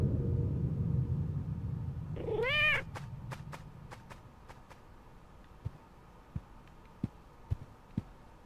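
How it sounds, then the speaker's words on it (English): A kitten in the video game The Evil Within 2 gives one rising, wavering meow, heard clearly after a low rumbling background, followed by soft rhythmic thumps. "It's my kitten, buddy!"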